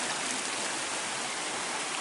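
A waterfall pours into a stream in a steady, dense rush of water, constant and loud with no breaks.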